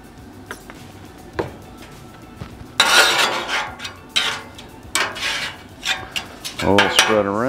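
Oil being spread across a hot Camp Chef Gridiron griddle at an outdoor breakfast cook, heard as scattered scraping and rubbing strokes of a utensil on the flat steel top with soft sizzling, growing busier and louder in the second half.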